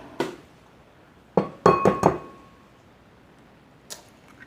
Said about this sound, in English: So I'm going to crack my other 2 eggs. Put them in the bowl.